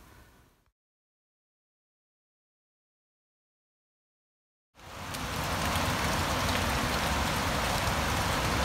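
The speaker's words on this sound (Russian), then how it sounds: "Ну все, дождь начался, потихоньку идет" Steady rain hisses down after a few seconds of silence, a dense, even patter that stays loud and constant to the end.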